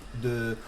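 A voice hums a short sustained tone imitating the Mac startup chime, one held note lasting under half a second.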